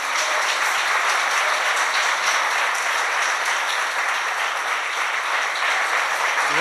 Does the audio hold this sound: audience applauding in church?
yes